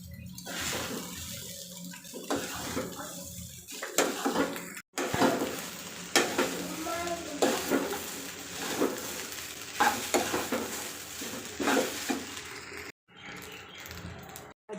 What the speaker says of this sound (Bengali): এরকম করে 5-10 মিনিট ভেজে একটু হালকা টাইপের ঝরঝরে হয়ে আসবে